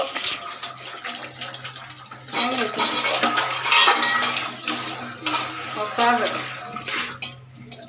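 Water gushes steadily from a tap into a sink at home, with dishes and utensils clinking now and then, close and moderately loud.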